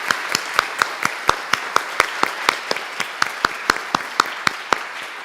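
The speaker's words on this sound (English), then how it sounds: "I move that we clap, accept the amended Constitution" Audience clapping at a meeting after a motion to accept an amended constitution, heard as a steady run of sharp, evenly spaced claps, roughly four per second, moderately close with a light hum of room noise beneath.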